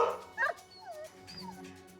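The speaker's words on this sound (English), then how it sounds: "We've just come around the corner, and we see some puppies playing." Puppies at play give a few short yips and whimpering, whiny barks, close and fairly soft, with a brief louder yelp near the start and low background murmur throughout.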